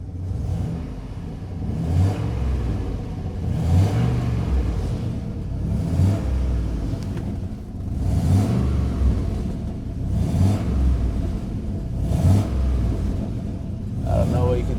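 A turbocharged GMC Sierra truck engine revs repeatedly with its exhaust cutout closed, rising and falling in roughly two-second surges of deep rumble, loud and close, with voices talking over it.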